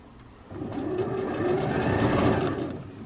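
Sewing machine running steadily for about two and a half seconds as it stitches a soft minky fabric blanket, a continuous close whirring hum that starts after a brief quiet moment.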